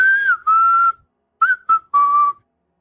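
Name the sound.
person imitating a whistle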